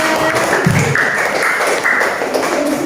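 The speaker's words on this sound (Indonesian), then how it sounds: "coba beri tepuk tangannya" A class of students claps in a classroom, the steady dense patter of many hands holding at an even level throughout, with no voices over it.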